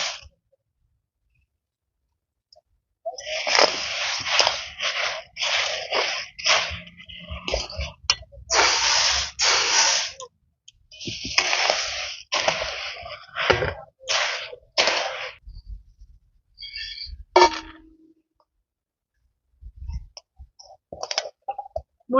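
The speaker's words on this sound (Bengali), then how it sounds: "এবার এই গুড়ের মধ্যে ভেজে রাখা মুড়িটা অল্প অল্প দিয়ে আমি খুব ভালো করে মিশিয়ে নেব।" Puffed rice is stirred into hot jaggery in bursts of dry, crisp rustling and clicking, loud and close, with short pauses between strokes and quiet stretches at the start and end.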